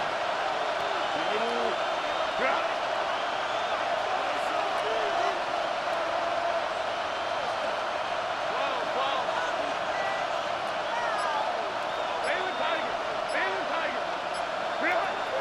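Stadium crowd in Madden NFL 26 building before a 3rd and long, a steady loud roar of cheering and whistles throughout, continuous and even.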